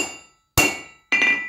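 A blacksmith's hammer strikes hot metal twice while drawing out stock during forging, each blow a sharp, loud ringing clang that fades before the next, close and alone.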